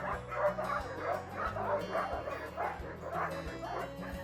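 Sled dogs in Denali National Park bark and yip in quick, repeated bursts, with excited whimpers between them, at moderate distance over a steady low hum.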